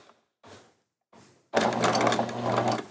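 A domestic sewing machine stitching and anchoring fabric: two short whirring bursts separated by silence, then a sustained loud rattling run of stitches with a steady mechanical hum.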